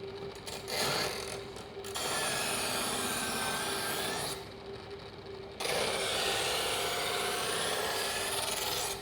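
Electric knife sharpener grinding a kitchen knife blade in a catering kitchen, a steady loud rasping whir with a brief dip midway as the blade is pulled through, continuing unbroken to the end with no talk.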